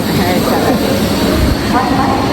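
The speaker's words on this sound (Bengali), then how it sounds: "ভাই সামনে একটা লোকাল ট্রেন এলো" A crowded local train arrives nearby in Howrah, producing a loud, continuous rumbling roar of rolling wheels and carriages that fills the whole stretch, with a voice faintly mixed in underneath.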